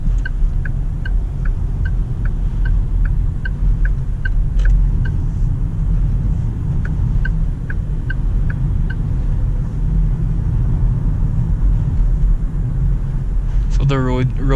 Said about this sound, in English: So the road noise, the noise coming from the wheels, you can hear a lot.